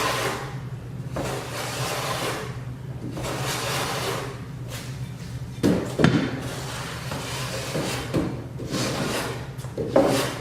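The edge of a replacement wooden door is sanded or planed in long, repeated rasping strokes, close and even in rhythm, with short pauses between passes.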